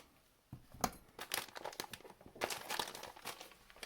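A plastic bag of toy stuffing from a crochet kit being cut open and handled, giving close, quiet crinkling and rustling in two bursts after a brief silence, with no speech.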